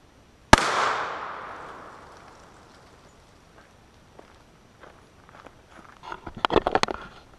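Big-bore launcher firing a 350 grain load: a single sharp, loud shot with a long decaying echo, followed by faint shuffling and metallic handling clicks as the action is worked.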